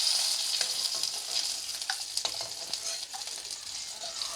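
Fish fries in a pan of hot oil, giving a continuous close sizzle with scattered sharp pops and crackles and no voices over it.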